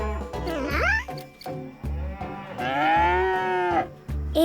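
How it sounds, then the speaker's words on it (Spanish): Cattle moo several times in quick succession, loud and close, with long drawn-out calls and short lowing grunts between them. "Ese es el sonido que hace una vaca."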